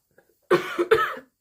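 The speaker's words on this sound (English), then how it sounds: "Sorry if I cough" A woman with a lingering fluish cold coughs twice in quick succession, close to the microphone, with a short breath before and nothing else around it.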